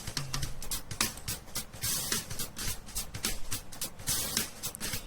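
Drum overheads play through a compressed drum bus in a studio mix, giving a busy, cymbal-heavy stream of bright, splashy hits and steady beats over the whole stretch, with no voices.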